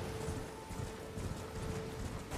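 Horse hooves clip-clop in a steady, fast rhythm while riding in the video game Elden Ring, a dense continuous patter close by with no voices.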